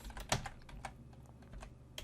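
Typing on a computer keyboard while entering a name into forest disturbance modeling software: a quick run of close, distinct clicking keystrokes, one sharper tap early on, with no talking.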